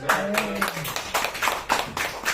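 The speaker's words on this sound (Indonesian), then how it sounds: "Supaya nggak stres kita tepuk tangan Pak Ben." Group clapping in a meeting room during a company evaluation session, a few loose bursts of hand claps close by with a speaking voice in between.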